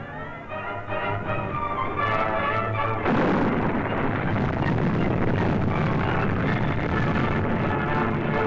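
Wartime artillery barrage, a dense, loud rumble of continuous heavy booms and blasts that swells and stays sustained, with no speech over it.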